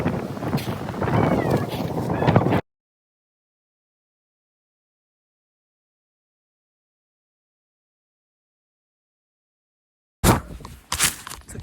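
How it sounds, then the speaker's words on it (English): Gusty wind from a snowstorm in New York buffets the microphone in loud, roaring bursts for a few seconds, then drops to total silence before another rough gust at the end. "It's very windy."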